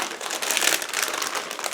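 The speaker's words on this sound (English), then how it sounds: "give me a second to remove them from the plastic bag" A plastic bag holding model kit sprues for a 1/48 Ju 88A-14 crinkles and rustles continuously and up close, with no talking over it.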